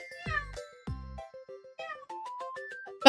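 A parrot imitates a cat, producing several clear, close meow-like calls followed by a run of shorter chirps and whistled notes.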